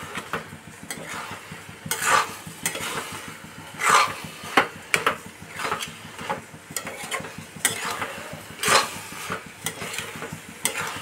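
Mashed cabbage is stirred together with a little mustard oil for a Bengali cabbage bharta with shrimp, giving close, irregular squishing and scraping strokes with brief clinks and no talk.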